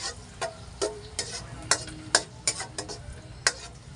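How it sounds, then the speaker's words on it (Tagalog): Garlic sautés in hot oil for a crab, shrimp and vegetable coconut stew, with a faint background sizzle under a series of crisp, irregular spatula clicks and scrapes against the pan. "At isusunod na po natin ngayon yung bawang. Gigisa na po tayo"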